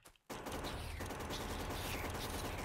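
Rapid continuous machine gun fire in Factorio against hostile biters, starting abruptly after a brief quiet moment and then sustained as a dense, loud stream of shots.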